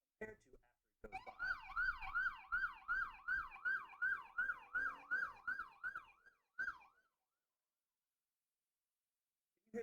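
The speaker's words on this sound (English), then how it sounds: "to the siren sound." A wailing siren cycles up and down repeatedly as it passes, its pitch dropping as it moves away, then stopping abruptly; brief knocks bracket it.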